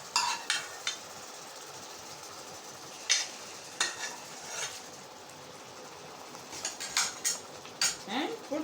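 Boiled vegetables and cauliflower stirred into coconut masala in a pan for a white kurma: intermittent spoon scrapes and clinks against the pan over a faint low sizzle, close, with long quiet gaps.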